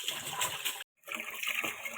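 Water is poured over clams in a cooking pot, a splashing gush that stops abruptly partway through and then resumes as a softer trickle.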